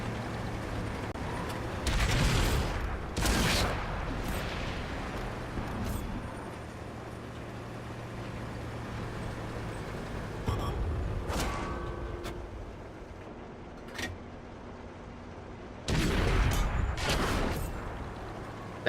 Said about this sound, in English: These high explosive mortar shells are not letting me down